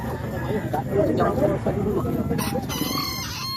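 Chickens cluck and a rooster crows amid steady background noise at a pet market in Calumpit, Philippines.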